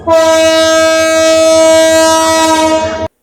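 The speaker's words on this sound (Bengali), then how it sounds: "সামনের দিকে ছুটে চলে আমাদের ট্রেন" A passenger train on the Nangalkot to Chattogram route sounds one loud, steady horn blast lasting about three seconds as it sets off, then stops abruptly.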